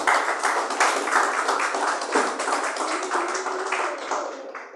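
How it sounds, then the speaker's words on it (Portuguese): A church congregation claps for Jesus during a sermon, a dense, loud wash of many hands sustained throughout, with voices mingled into the steady clapping. "Palmas para Jesus, irmãos"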